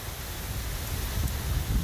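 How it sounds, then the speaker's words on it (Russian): Rain falls steadily as a strong wind rises, giving a dense, even wash of noise close by with a low rumble beneath and no voices. "Заодно вышел дождь заснять"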